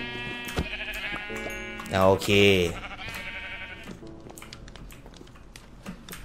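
A sheep in the Minecraft video game bleats once, loud and wavering, while its wool is sheared, amid blocky game sound effects and someone talking over the scene.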